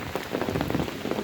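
Rain patters steadily on surfaces during a wet-day hike outdoors, a dense close crackle of drops, fairly loud and even across the short stretch.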